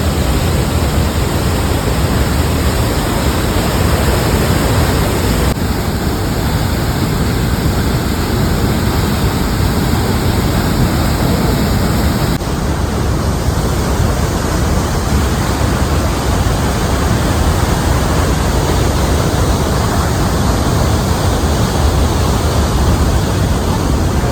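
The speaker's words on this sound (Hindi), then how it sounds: "इस वाटरफॉल जो कि ज़मीन के अंदर है" Davi's Fall, an underground waterfall in Pokhara, Nepal, roars as a loud, constant broadband rush of falling water, steady and close throughout with no voices.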